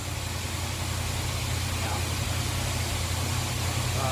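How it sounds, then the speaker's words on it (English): A rebuilt 1969 Ford Mustang GT engine running steadily, a close, constant low rumble with a smooth idle-like drone and no talking over it. "We got the engine's mic'd out."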